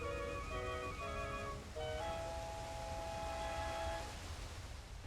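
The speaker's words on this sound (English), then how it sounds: "with the Angler Key, we will open the waterfall and allow the water to part ways" In the Link's Awakening video game, a waterfall parts with a rushing wash of water under a sequence of tonal chime-like game notes, followed by a sustained tone that fades, all fairly quiet with no speech.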